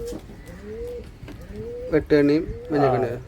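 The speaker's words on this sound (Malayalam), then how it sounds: "ഇത് കോഴിക്കോട് പ്രാവാണ്" A Kozhikode pigeon coos close by in low, throaty calls that swell into louder, fuller bursts toward the end.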